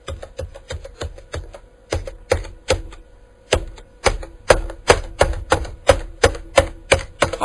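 Keys on a ZX Spectrum home computer keyboard are struck in sharp, loud clacks, sparse and irregular at first, then a faster steady run of presses near the end, with no voice.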